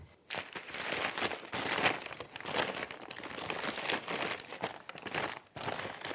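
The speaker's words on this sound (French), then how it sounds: "on a besoin de papier journal que je vais chiffonner, froisser et ensuite réouvrir" Sheet of newspaper being crumpled and crinkled by hand, a close, continuous dry rustling and crackling that runs for about six seconds with one brief pause, used for a paint texture effect over a glaze.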